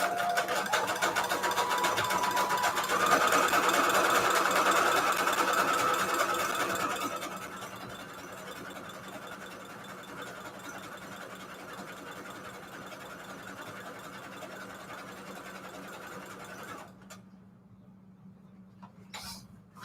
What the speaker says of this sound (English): I'm sewing that all the way around so that way it doesn't fray the fabric.